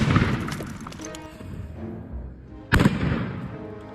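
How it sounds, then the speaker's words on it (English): A black powder charge detonates inside a cabin, one sharp loud boom cutting in after a stretch of low outdoor rumble and a faint hiss, followed by a brief decaying rumble. "Using a black powder charge and 2 cameras shooting at 120 frames a second, we set the charge, held our breath, and boom."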